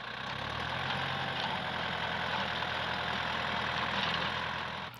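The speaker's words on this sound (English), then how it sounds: "Check out this brilliant tractor-operated spading machine." A tractor-operated spading machine for tilling farmland runs with a steady, droning engine hum and mechanical rumble, constant and fairly close, cutting off at the end.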